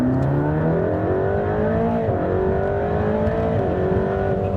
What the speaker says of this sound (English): It gives you a full body shove right to the chest when the turbos kick in and you get up to the high revs.